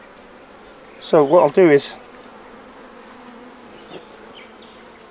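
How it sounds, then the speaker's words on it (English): A steady swarm of honey bees buzzing close by at a hive, with a person briefly talking over the drone. "Oh, well done, little bees."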